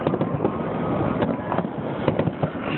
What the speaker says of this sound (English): Even though they'll have the same fireworks with them.